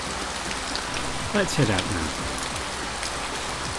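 Steady rain falls as ambient background in an audio drama, a soft continuous patter under a brief spoken line from a voice.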